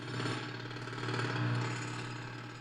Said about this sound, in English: I never get sick of the jackhammer.